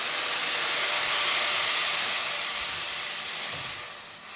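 A loud, steady hiss of water poured into a hot pan of vermicelli and sugar, broad and bright, holding for several seconds before easing off.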